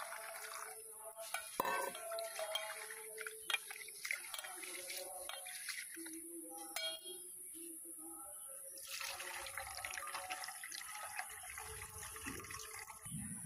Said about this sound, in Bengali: ডালটা আর একবার ধুয়ে নেব।